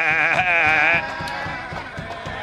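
A single goat bleat, loud and close, wavering for about a second before trailing off into a quieter background.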